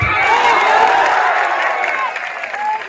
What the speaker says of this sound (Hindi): एक जोरदार ताली हमारे।